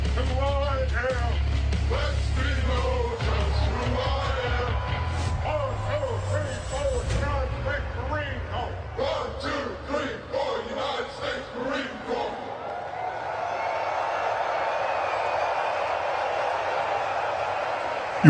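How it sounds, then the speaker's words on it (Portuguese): An audience applauds after a video plays on a big screen, crowd noise under someone talking at first, then a broad, steady wash of clapping swelling on its own toward the end. "E o público aplaude então o vídeo que rodou no telão."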